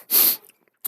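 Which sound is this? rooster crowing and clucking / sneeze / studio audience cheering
sneeze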